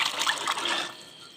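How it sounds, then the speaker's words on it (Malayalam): Salted cooked chickpeas and their cooking water being poured into a pan of rava upma, a soft close trickle and splash that tapers off after about a second. "അതിൻ്റെ വെള്ളം അടക്കം വേണം ഇതിലേക്ക് ഒഴിച്ചു കൊടുക്കാൻ വേണ്ടിയിട്ട്."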